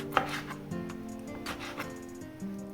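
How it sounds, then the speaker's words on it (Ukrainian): A knife chops dried fruit into small pieces on a board, with several distinct close knocks at an uneven pace over a faint background hum. "Спочатку підготуємо сухофрукти. Наріжемо їх на маленькі шматочки."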